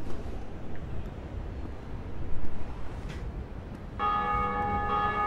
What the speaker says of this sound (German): Glocke.